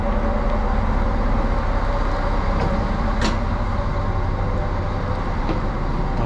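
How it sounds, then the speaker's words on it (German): Rumbling interior of a passenger train travelling toward Erfurt, with steady low wheel and running noise filling the whole stretch and a couple of brief clanks and squeaks rising above it. "dass wir jetzt im Zug sitzen nach Erfurt"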